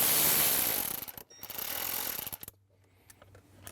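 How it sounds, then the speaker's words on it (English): A ratchet wrench loosens a 10mm bolt on the trim panel of a 2024-or-later Jeep Wrangler, making a rapid run of close clicking that stops, then a few faint ticks follow. "Now you can remove that 10mm bolt and then remove this trim panel piece."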